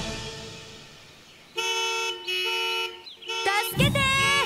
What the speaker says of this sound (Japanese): クラクションを力いっぱい押しました